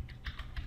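A computer keyboard is typed on, with a few quick, soft keystrokes close by in a short burst, and no talking.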